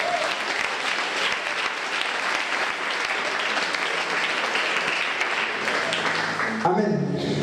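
A church congregation at a March 2015 retreat claps and cheers in sustained, loud applause that fills the room, with voices shouting praise throughout and a brief sound change near the end.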